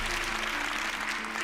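A studio audience on a magic competition show applauds steadily as a volunteer named Bill is called up, a dense wash of clapping that holds level from start to finish.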